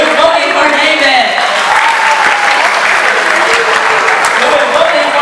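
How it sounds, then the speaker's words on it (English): A school assembly crowd of students applauds as a vote, sustained loud clapping from close by with cheering voices woven through, steady from start to finish. "Let's vote by applauding"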